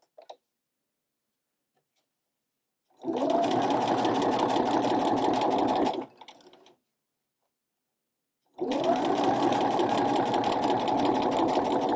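A sewing machine runs a straight stitch with a narrow hemmer foot in two steady bursts of a few seconds each, a fast, even mechanical whir close up, separated by near silence and a brief slower run.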